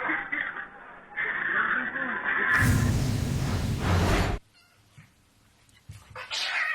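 A cat meows and yowls loudly up close, followed by a brief whoosh and quieter scuffling sounds.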